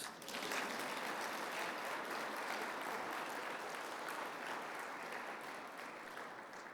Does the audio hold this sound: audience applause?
yes